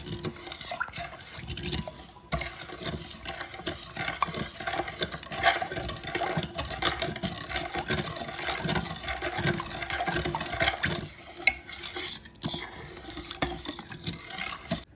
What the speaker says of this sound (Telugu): ఇప్పుడు ఇదంతా పంచదార అంతా ఈ పాలలో వేసేసి ఒకసారి బాగా కలుపుకోవాలండి.